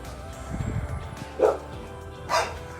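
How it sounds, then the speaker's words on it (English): Dogs bark in two short, sharp yaps at moderate distance over a low background hum, heard near a 2018 Ford Explorer under repair. "These dogs, I hate these dogs."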